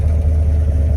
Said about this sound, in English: But looks like the car is idling